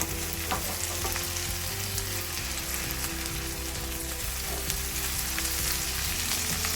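Ginger garlic paste and softened onions frying in a pan while being stirred, a steady close sizzle with occasional scraping, and no voices.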